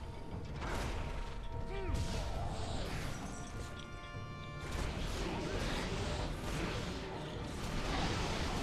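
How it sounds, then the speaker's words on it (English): Little gates turning in Castlevania: Lords of Shadow, heard as dense grinding and rattling machinery with creaks, metallic clanks and whooshes running continuously throughout. "Now we gotta wait for these little gates to turn."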